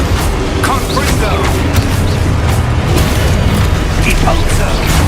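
Confringo fire spell blasting in Hogwarts Legacy, a loud booming explosion amid dense continuous spell effects and game rumble, with other impacts layered around it.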